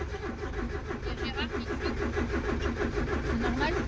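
A long-idle van engine turns over with a steady, rhythmic cranking that settles into a loud, continuous running note, close up and alone, with a squeal from a pulling belt.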